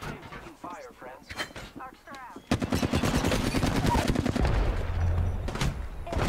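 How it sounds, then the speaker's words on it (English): Rapid automatic gunfire in the battle royale game Apex Legends, dense and loud bursts that swell after a few seconds of chatter. A player talks over the start and the shooting continues under the voice. "I am taking fire, friends."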